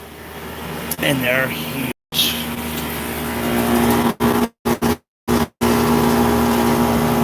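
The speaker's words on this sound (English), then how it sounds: "you can hear the compressor sometimes at this stage in here" Compressor of a 60 ton Trane air conditioning unit humming with a steady low tonal drone and broadband rushing noise, close by, under someone talking, with the sound cutting out in several brief gaps.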